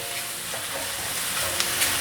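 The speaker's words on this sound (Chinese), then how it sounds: "继续翻炒，" Enoki mushrooms stir-fry in a hot pan, a steady close sizzle with faint scraping as they are turned, no talking.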